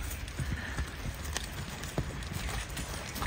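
A horse clip-clops along outdoors in a village, with loose hoof strikes over steady wind and background noise, moderately close and without talk.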